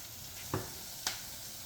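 Rice pilaf sizzles in a frying pan with a soft, steady hiss, broken by two brief scraping knocks as it is stirred.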